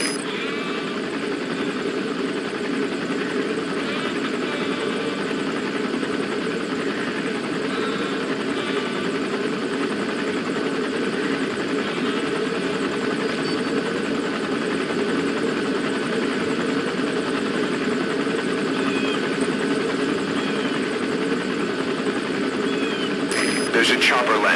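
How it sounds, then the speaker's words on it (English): A helicopter landing in Metal Gear Solid V, a steady rotor and engine drone running throughout with a voice speaking over it. "There's a chopper landing."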